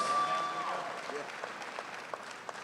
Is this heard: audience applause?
yes